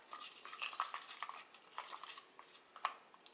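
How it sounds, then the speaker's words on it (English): A utensil stirs thick Dixie Belle paint inside its can, giving quiet, close scraping and clinking strokes in an irregular rhythm with soft knocks against the metal. "and I'm going to have to stir it up"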